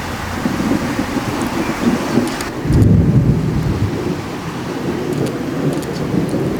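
Rolling thunder from a storm over Lake Illawarra, New South Wales, rumbles almost constantly, swelling in a deeper boom midway, with rain and wind hiss underneath.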